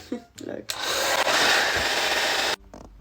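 A hair dryer on a not-too-hot setting blows steadily for about two seconds, close and loud, while setting eyelash curl, with brief handling noises before and a click as it stops.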